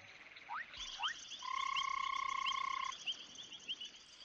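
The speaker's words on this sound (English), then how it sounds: "Frogs have small lungs, but the sounds they make are made much louder by sacs beside their throats" Frogs call in a chorus of high, whistling croaks with rising chirps and a long sustained trill in the middle, fairly close and with no talking.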